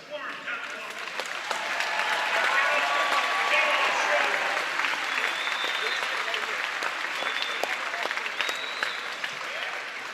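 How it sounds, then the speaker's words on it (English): A crowd in a gym-style hall applauds warmly to welcome a hall of fame inductee at a volleyball event, the clapping swelling after a couple of seconds and holding steady with scattered cheers and voices. "Let's please give her a warm clap of welcome."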